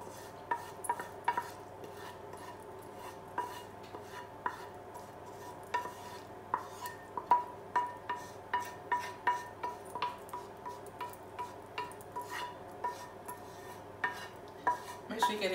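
Vegan artichoke and spinach mix being scraped and spooned into a Pyrex dish, a run of irregular soft clinks and scrapes, some in quick bursts, faint and close with no talk.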